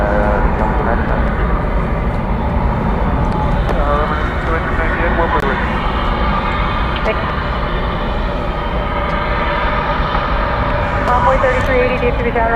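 An American Airlines Dreamliner jet at DFW Airport gives a loud, sustained roar that stays strong throughout, with a voice talking over it the whole time.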